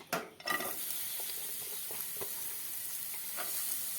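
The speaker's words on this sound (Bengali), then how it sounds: "এই পেঁয়াজটা একটু ভেজে নেব।" Chopped onions frying in a little oil in a wok, a steady bright sizzle with faint stirring scrapes after a louder clatter at the start, close by with no voices.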